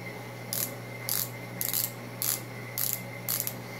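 A twist-up makeup stick being turned, giving six short bursts of ratcheting clicks in an even rhythm, close up and alone, with a steady hum underneath.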